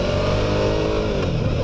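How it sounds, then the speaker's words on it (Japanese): A Suzuki V-Strom 650 motorcycle engine revs hard above 4000 rpm while riding at about 58 km/h, a loud, steady, close-up roar with a throbbing, uneven twin-cylinder character and no talk over it. "エンジンがこう 4000を超えてこう回していくとですね"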